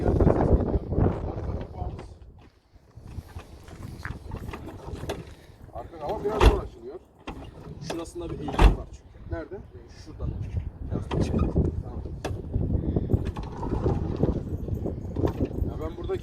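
The doors of a used Volkswagen Transporter van are closed, giving two sharp, loud thumps a couple of seconds apart amid ongoing talk and handling noises.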